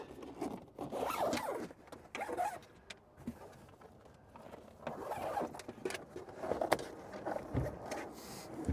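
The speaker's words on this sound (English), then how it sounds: "And then you're going to pull the top down and zip it up." Zipper on a storage bag for a GM Hummer EV roof panel being pulled shut, several scratchy zipping strokes in bursts close by, with some rustling of the bag between pulls and no talking.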